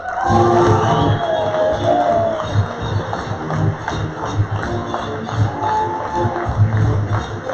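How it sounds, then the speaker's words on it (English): Crowd of attendees at a 2019 Air Force contracting training summit applauding and cheering as Major General Cameron Holt is introduced, a steady roar with scattered shouts and whoops throughout. "Please give a round of applause to our favorite bulldog, Major General Cameron Holt"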